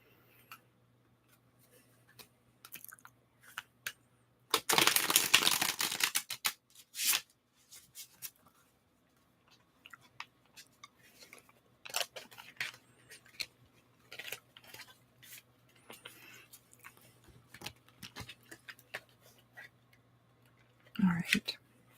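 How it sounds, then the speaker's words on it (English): A brisk riffle of shuffling a very large deck of cards, followed by scattered soft clicks and handling noises of cards being gathered and squared, then another brief riffle. "It takes a little while to shuffle this deck because it's huge."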